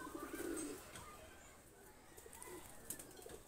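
A pigeon coos faintly, with a low murmur early on and softer calls later, heard alone against quiet background noise.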